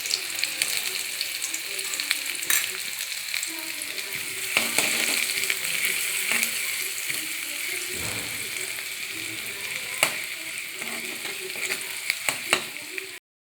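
Chopped onion and green chillies fry in hot oil in a wok, a steady close sizzle running throughout with occasional scrapes and clinks of stirring.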